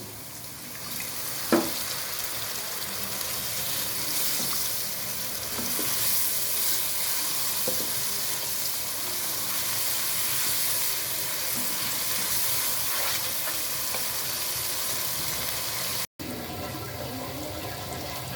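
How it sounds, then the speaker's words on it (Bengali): A little water goes into a pan of sizzling spices with salt, giving a steady frying hiss broken by a few clinks and stirring scrapes, close and fairly loud. "এই পর্যায়ে সামান্য পানি অ্যাড করছি"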